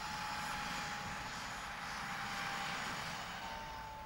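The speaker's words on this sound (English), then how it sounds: "An army helicopter helps out on the civilian front." An army helicopter flies over the Falkland Islands near Port Stanley in 1983, a continuous droning rotor and engine roar at moderate distance, steady for the whole stretch with no talk.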